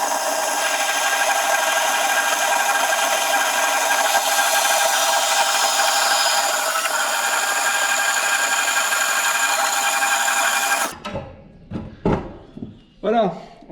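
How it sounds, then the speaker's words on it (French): Tubing being cut into two 9 cm pieces for a Solex engine workshop stand, a steady continuous rasping saw or cutting noise running for about eleven seconds, then stopping as a voice speaks. "on va se couper dans nos tubes deux morceaux de 9 cm"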